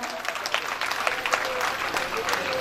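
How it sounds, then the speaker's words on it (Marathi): Audience applause at a village felicitation ceremony honouring a student, with a steady crowd of clapping hands sustained throughout and a faint voice mixed in. "सर्वांनी टाळ्या वाजवा."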